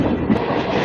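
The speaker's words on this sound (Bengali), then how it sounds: "আজকে আমি জার্নি করব ট্রেন নম্বর 63-584 রামপুরহাট বর্ধমান মেমু প্যাসেঞ্জার" Rampurhat–Bardhaman MEMU local passenger train running along the track, a steady close rumble of wheels and carriage with faint rhythmic clatter, heard from inside without talk.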